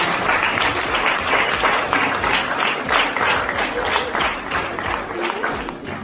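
A school seminar audience applauds steadily throughout, a dense wash of many hands clapping at close to moderate distance with no talk over it.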